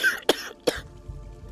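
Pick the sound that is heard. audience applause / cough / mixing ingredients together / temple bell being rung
cough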